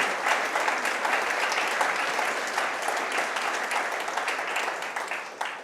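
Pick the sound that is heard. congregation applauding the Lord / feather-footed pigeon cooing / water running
congregation applauding the Lord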